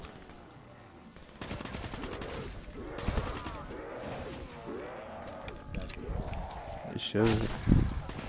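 Burst-fire gunshots in Black Ops 3 Nightmares mode on Xbox One crack out as several quick reports at moderate distance, mixed with game noise, movement and mechanical clatter, while players talk over the action.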